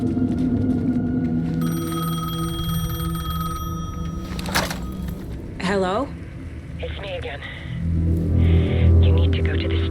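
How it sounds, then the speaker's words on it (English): Payphone ringing in the horror video game Alan Wake II, steady electronic tones and hum with a ringing phone bell amid eerie game ambience, moderately loud and continuous, with a voice speaking alongside. "The payphone was ringing."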